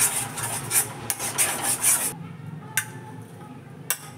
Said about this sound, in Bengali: আর একটু নাড়াচাড়া করে এটাকে আমি তুলে দেব।